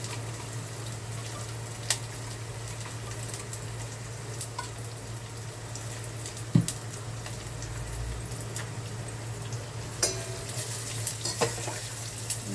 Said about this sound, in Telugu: వేగనిద్దాం. వేగుతున్నాయి.